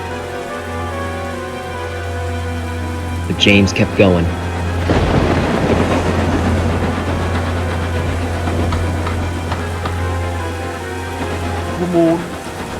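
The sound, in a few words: thunderstorm with rain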